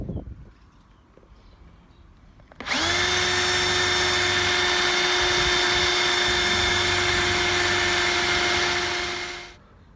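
An electric drill bores a 3 mm pilot hole through aluminium on a motorhome step repair, spinning up sharply to a loud, steady high whine that holds for about seven seconds before winding down, with no one talking.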